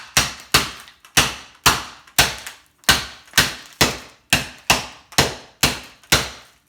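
Mini chocolate eggs in a bag are smashed for chocolate bark, giving a dozen sharp, loud cracking thwacks at a steady pace of about two per second, each with a quick crunchy decay, with no talking.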